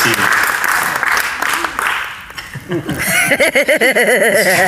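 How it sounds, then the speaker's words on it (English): A crowd applauds loudly with dense clapping, then the clapping thins into scattered claps while some people chuckle and laugh. "Give them both a big round of applause as they go back to their seats."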